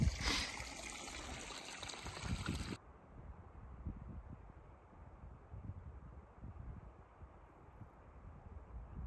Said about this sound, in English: That water is now flowing away from us.